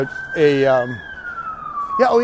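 Emergency vehicle sirens passing a city park near a soccer field, a loud wailing siren with a long falling tone and a yelp at the end, close by.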